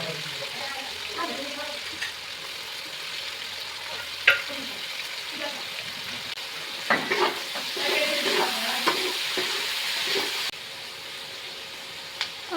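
Onion frying in a pan for a chicken curry, a steady close sizzle with scattered clinks and scrapes of stirring.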